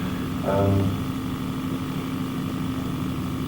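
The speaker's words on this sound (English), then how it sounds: "Turbo engine line." Turbo engine running aboard the Radio Caroline radio ship, a loud continuous drone with a steady hum and a brief swell near the start, filling the cabin without any voices.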